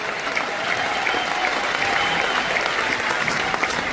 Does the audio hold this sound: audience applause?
yes